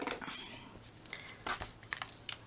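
Faint, brief snipping and crinkling of plastic being cut with Tim Holtz scissors, a few quick crisp snips spread over a couple of seconds in a quiet room.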